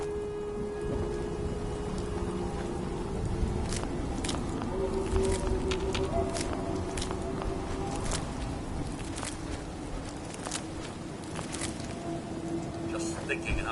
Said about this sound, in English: Just thinking how wonderful it would be to get out of this infernal rain.